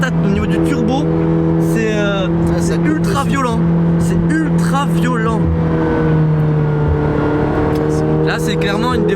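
A McLaren 720S turbocharged sports car accelerates hard, its engine note rising and shifting through loud, continuous revs from inside the cabin, with someone talking over it.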